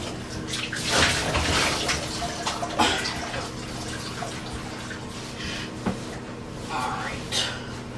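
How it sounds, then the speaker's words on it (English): Water sloshes and splashes in a bubble bath as a dog is washed, close and uneven, with someone talking over it. "As you can tell, it's a bubble bath."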